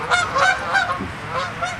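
Geese at Spring Lakes park honk loudly and close by, several overlapping nasal calls in an irregular burst with no voices present.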